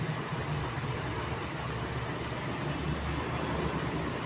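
A Toyota Vios engine runs at a steady idle, a continuous close hum with a faint squeal and a light knocking texture, and no talk over it.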